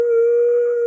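A person imitates a wolf howl with one steady, sustained howl at a single pitch, loud and close, with no other sounds.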